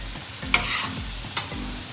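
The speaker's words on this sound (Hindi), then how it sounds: "हमने दही शामिल कर लिया और फिर इसको हमने पकने के लिए रख देंगे 2-4 मिनट के लिए" Chicken cooking with yogurt in a pan, stirred with steady scraping strokes over a soft continuous sizzle, two sharper clinks of the utensil against the pan, no voices.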